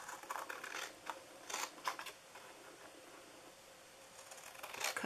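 Scissors cutting the flaps off a cardboard Christmas gift box: a few faint, crisp snips in short clusters against a quiet room hiss, with the last cut near the end.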